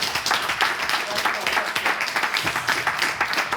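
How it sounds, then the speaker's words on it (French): A television game show studio audience applauds a contestant. The clapping is loud, close and dense, with a lively pulsing texture throughout. "Allez, on l'applaudit d'abord."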